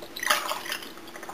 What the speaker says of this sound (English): I can always pour myself a glass of orange juice while